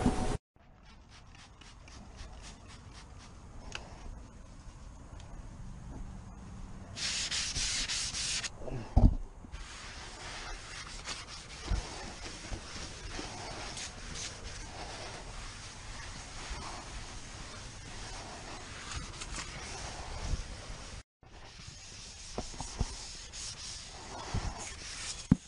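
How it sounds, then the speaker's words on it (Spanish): Steady rasping of fine 3000-grit sandpaper wet sanding car paint, rubbing back and forth across a smooth surface, close and continuous, with a brief harsh hiss partway through. "Vamos a dar con lija y agua antes de aplicar el..."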